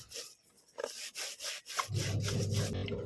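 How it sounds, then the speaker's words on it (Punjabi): Shoes scrubbed by hand with a hard brush, giving a run of quick rasping strokes in close rhythm, followed by a denser, steadier scrubbing near the end. "ਥੋੜਾ ਰਗੜ ਰਗੜ ਕੇ ਧੋਵੋ"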